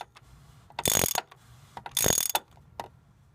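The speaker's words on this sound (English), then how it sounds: "It has a canister type fuel filter, and it does come off with a wrench." A wrench works loose a car's canister-type fuel filter, producing two short bursts of rapid metallic ratcheting clicks at close range with faint handling noise around them.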